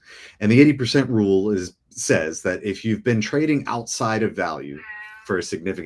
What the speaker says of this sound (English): sorry for my cat there.